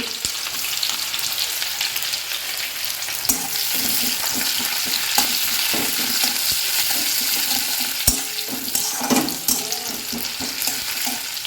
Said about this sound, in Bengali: ফোড়নে পেঁয়াজ দিয়ে দিচ্ছি।